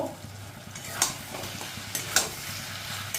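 A hilsa fish head with Malabar spinach is stirred in a pan, giving a steady low sizzle with a few sharp scrapes and clinks of the spoon at intervals, close and moderately loud.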